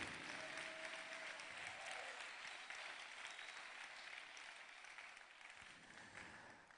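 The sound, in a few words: audience applause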